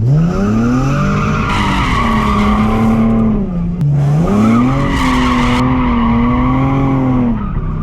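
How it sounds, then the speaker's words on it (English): Tires on a Nissan 370Z squeal loudly and continuously as the car drifts, a sustained tonal screech that bends in pitch, briefly breaks near the middle, then resumes with engine roar underneath, close and intense. "fucking dump the clutch and then start drifting"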